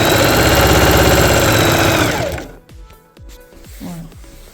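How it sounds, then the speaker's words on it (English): A sewing machine runs loud and steady for about two seconds while stitching fabric for a trouser waistband, then stops, followed by a few sharp clunks and softer handling knocks. "I'll be sewing the right side of this with the front of it before putting the band in"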